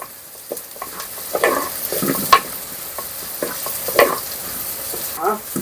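Onions fry slowly in a pan for mutton sukka, with a soft continuous sizzle broken by close spoon scrapes and clinks as they are stirred.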